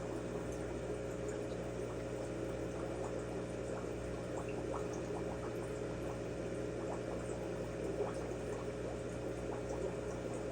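Aquarium air bubbler running steadily in a fish tank, a continuous close watery hum with faint bubbling and occasional small pops, no talking.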